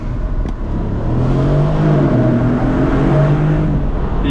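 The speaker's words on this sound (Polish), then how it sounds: "Jedyneczka i kickdownik sobie zrobimy." A 2012 Mercedes SL500 launches hard in first gear with kickdown, its engine note climbing loudly and steadily from inside the cabin with no talking over it.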